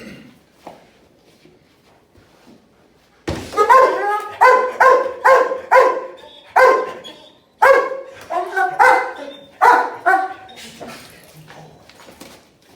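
A police dog in training lets out a rapid series of loud, close barks in rhythmic bursts after a quiet opening, with brief pauses between volleys.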